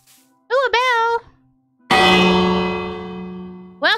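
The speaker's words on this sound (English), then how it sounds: "Ooh, a bell." A bell in Minecraft strikes once, loud and close, its rich harmonic tone ringing out and slowly decaying over a few seconds, with a player's voice chattering just before it and again as it fades.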